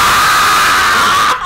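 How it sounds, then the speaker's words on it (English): A large creature in a GMod horror map shrieks loudly as it explodes: one piercing, sustained scream that cuts off abruptly at the end. "That big creature exploded in front of me, screaming"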